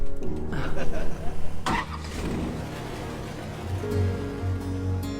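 An old airboat engine in Florida cranks with a few rough bursts, catches and settles into a low, throbbing idle that swells slightly near the end.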